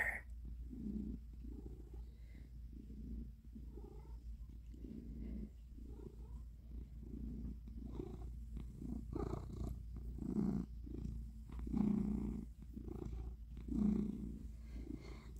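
A pet cat purrs softly and close, a low, rhythmic rumble rising and falling with each breath, quiet and unbroken with no talking.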